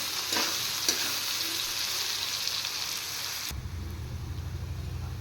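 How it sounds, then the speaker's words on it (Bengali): Onions fry in a pan with a loud, dense sizzle and a couple of spatula knocks before the hiss cuts off abruptly, leaving only a low background hum. "এই পেঁয়াজগুলো আমি একটু ফ্রাই করে নেব।"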